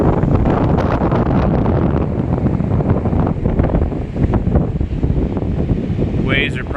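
Strong wind buffets the microphone on a beach in Volusia County, Florida, with heavy surf roaring behind it while a hurricane passes far offshore, the loud roar continuous throughout.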